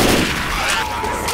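A short, rumbling burst of gunfire erupts in Left 4 Dead 2 on the Dead Air campaign at Expert Realism difficulty, loud and smeared with no distinct single shots, as a voice speaks faintly underneath.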